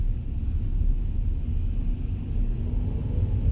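A car rolls slowly straight ahead during a driving lesson, a steady low engine and road rumble heard from inside the cabin with no talk.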